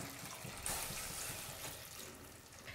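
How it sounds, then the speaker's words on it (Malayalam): Water poured into a pan of boiling vinegar while making garlic pickle, a soft, faint splashing stream with a low simmering bubble underneath. "ഇനി ഞാൻ ഇതിലേക്ക് വെള്ളം ഒഴിച്ചു കൊടുക്കുകയാണ്."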